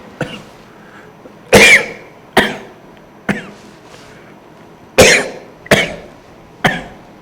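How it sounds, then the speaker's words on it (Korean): A teacher coughs repeatedly during a middle-school math lesson: seven sharp, close coughs arrive in an uneven series, some louder and harsher than others, separated by near silence. "기침이 나와서 미안합니다"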